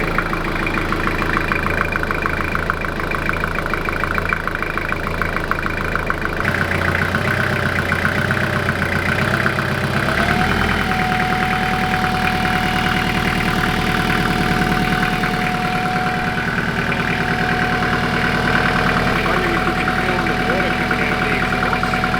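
A marine diesel engine idling aboard a wooden boat just after installation and first start, a steady close mechanical rumble with a knocking rhythm that continues throughout, with people talking over it.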